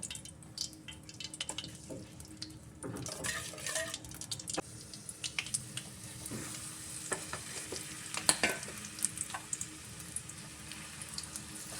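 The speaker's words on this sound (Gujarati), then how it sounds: "આપણું ઘી ઓગળી ગયું છે. આપણે તેમાં ખજૂર નાખી દઈએ." Dates stirred into melted ghee in a pan for khajur biscuits or khajur pak, giving a soft sizzle with scraping spoon strokes and a few sharp clicks, close and moderately quiet throughout.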